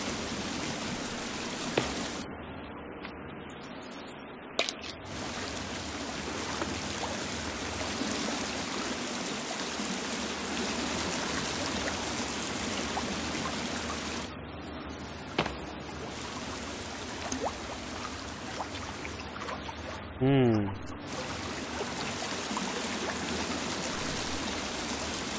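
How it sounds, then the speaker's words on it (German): Steady flowing water in the survival game The Forest, a continuous rushing stream heard close and fairly loud, with a few faint clicks and a short voiced sound near the end. "Ach scheiße, es ist Wasser."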